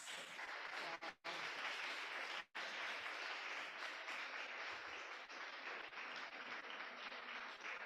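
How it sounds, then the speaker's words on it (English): An audience at an annual meeting applauds for the director and staff, a steady wash of clapping with two brief breaks that carries on for several seconds, fairly distant. "So they get a huge applause."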